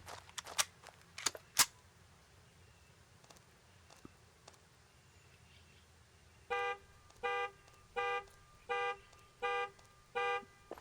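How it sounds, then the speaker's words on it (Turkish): A car alarm in the indie horror game Deer Hunt, set off by a deer hitting the car, blares in six steady, evenly spaced tonal bursts after a few sharp clicks and knocks at the start. "Bir geyik araba çarpmış olmalı ve alarmı aktive etmiştir"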